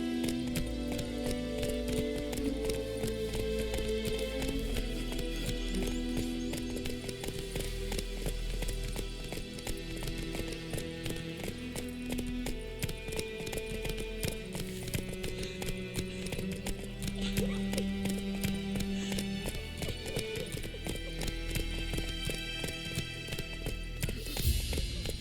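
Geralt's horse Roach galloping in The Witcher 3 video game, a fast steady clip-clop of hooves running continuously under a loud music score for the whole stretch.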